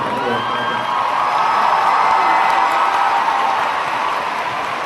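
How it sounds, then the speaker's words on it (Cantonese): A large concert audience at a 2010 show roars with applause and cheering, a dense, sustained wash of clapping and shouting that fills the space loudly throughout, with no distinct voices standing out. "希望今日用你哋最熱烈嘅掌聲歡迎咗"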